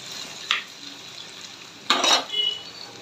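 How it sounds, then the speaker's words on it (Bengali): A pan lid clanks as it is lifted, then a spoon scrapes and stirs jackfruit seeds frying with dried fish and spices, two short close metallic knocks over a soft sizzle. "ঢাকনা তুলে কাঁঠাল বিচিগুলো নাড়াচাড়া দিয়ে দিব"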